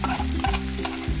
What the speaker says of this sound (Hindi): अब मैं इसमें अदरक लहसुन का और हरी मिर्च का पेस्ट डाल रही हूँ 2 चम्मच भर के।